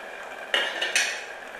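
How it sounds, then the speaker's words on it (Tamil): A lid set onto a cooking pot of simmering spinach, two light metallic clinks in quick succession, close and fairly quiet against faint room noise. "மூடி போட்டு வச்சுருவோம்."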